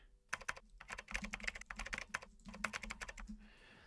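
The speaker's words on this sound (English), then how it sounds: "we can type in our story" Typing on a computer keyboard, close and quiet, in rapid bursts of key clicks separated by short pauses, with no voices.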